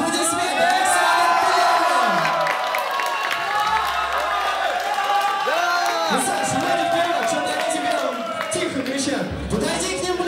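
A crowd at a Russian head-to-head competition applauds, cheers and whoops for the first player, a lively, swelling roar with a voice talking over it.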